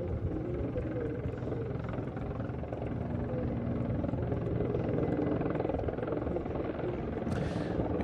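A Mi-24 Hind helicopter flies at the NATO Days airshow, its rotor drone steady and moderately distant throughout, with a faint airshow commentary voice beneath it.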